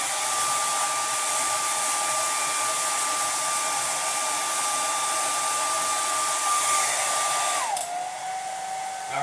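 A hair dryer blows hair dry with a loud, steady whooshing roar and a constant motor whine that runs unbroken for most of the clip, then shifts slightly lower in pitch near the end.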